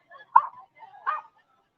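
A very large dog, big as a small horse, with a growth on its head, gives two short, fairly close barks or yips about three-quarters of a second apart at the Sturgis rally, with faint voices around it.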